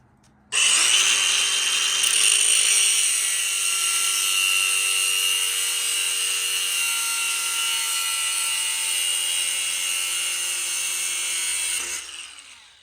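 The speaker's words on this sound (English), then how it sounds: "I got it nice and tight in a pair of pliers. I'm going to put it down here. Take my cutoff wheel." A cutoff wheel grinds through a bolt held in pliers, a loud, continuous high-pitched whine that starts abruptly, holds steady for about eleven seconds, then winds down.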